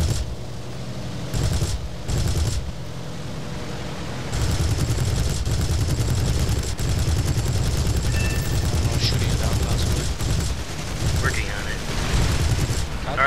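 Aircraft cannons firing in the video game War Thunder, with long loud bursts of rapid fire broken by short pauses and engine drone underneath, with a player talking over parts of it.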